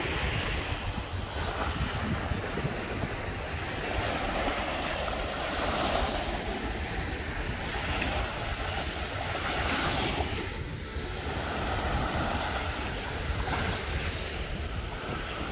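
Steady surf washes continuously onto a long sandy Baltic Sea beach near the Lontzke dune at Łeba, Słowiński National Park, Poland, with wind buffeting the microphone throughout and no voices.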